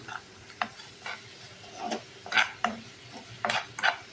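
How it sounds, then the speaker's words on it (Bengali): Grated carrot halwa with sugar is stirred in a pan, with short scraping strokes of a spoon coming in an uneven rhythm, close and fairly quiet, with a faint sizzle underneath. "এবার একটু নেড়ে দিই।"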